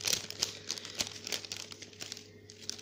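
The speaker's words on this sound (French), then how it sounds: "Désolée, ça va faire du bruit, le sachet." A plastic sachet crinkles and rustles under handling close by, a quiet run of crisp, irregular crackles with no talking, during paper coffee filter flower crafting.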